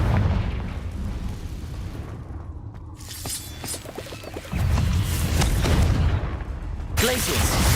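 Fiery Confringo spell blasts from Hogwarts Legacy gameplay boom out as heavy, rumbling bursts, with a loud explosion near the middle and another crackling burst at the end over a game soundtrack.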